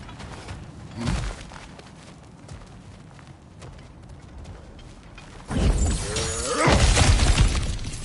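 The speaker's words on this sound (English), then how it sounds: "back to smashing through things for fun and profit" Breakable objects smashed in God of War Ragnarok: one sharp crash early on, then after a quieter stretch a loud cluster of shattering and splintering debris that carries to the end.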